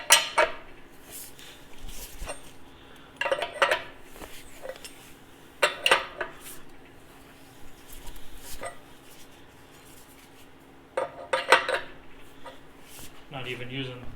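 Metal wrench clinking and ratcheting against parts of a Farmall Super M tractor during cylinder sleeve work, sharp scattered taps and clanks near and moderately loud, with someone talking between them.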